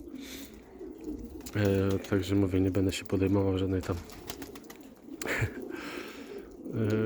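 Pigeons coo in a pigeon loft housing light-tailed birds, a steady low cooing running under and between a man's close speech and brief laughter.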